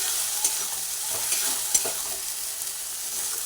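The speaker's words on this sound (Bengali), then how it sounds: "মশলাটা সুন্দর করে ভাজা হচ্ছে" Masala with Kashmiri chilli powder sizzling in a pan, a steady hiss with repeated spatula scrapes and a couple of sharper clinks, close and moderately loud, no voices.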